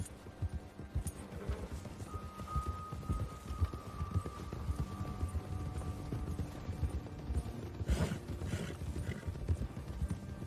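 Horse hooves clip-clopping at a steady trotting rhythm in the video game Red Dead Redemption 2, continuous and fairly close, with a faint tonal hum in the background and no speech.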